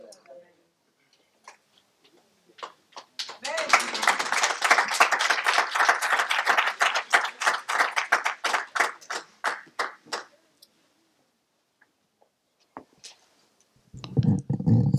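A church congregation applauds a visiting speaker, clapping building from scattered claps into several seconds of steady, moderately loud applause, then thinning out into silence before a voice begins speaking.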